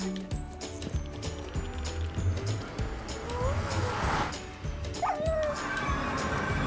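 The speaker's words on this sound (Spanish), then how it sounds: "Otro perro llorando." A dog whimpers in the video game Minecraft, with a few rising whines and yips over a low game background hum and clatter, fairly close and moderately loud.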